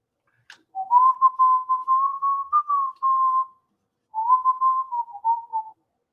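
A person whistles a tune, a clear melodic phrase of quick notes, a short pause, then a second phrase, close and alone without talk.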